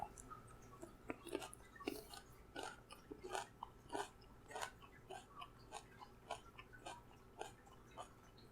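Someone chews a crunchy Brazilian red olive pepper pod with the seeds popped out, close-up bites and crunches in an uneven rhythm, faint and without speech.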